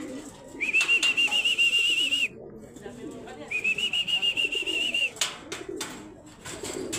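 Pigeons in a racing-pigeon trapping setup give close, soft cooing and fluttering alongside two sustained high whistles, with someone speaking in the background.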